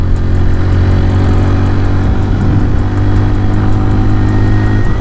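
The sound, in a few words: CFMOTO Papio XO-1 motorcycle engine riding through gears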